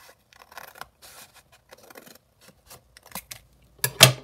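Scissors snipping through a taped book cover for an envelope booklet, a series of sparse, close, dry cutting crunches with quiet gaps, ending in a louder pair of snips.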